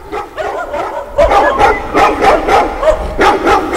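Police dogs at a border crossing barking repeatedly, a rhythmic run of loud, close barks and yips following one another without pause, no talk over them.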